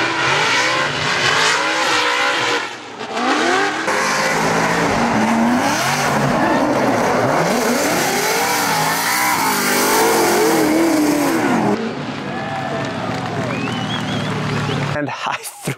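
A Formula Drift race car at St. Louis, Missouri drifts hard, its engine revving and wailing while the tires squeal and skid in long sweeping tones, loud and close, dropping off near the end.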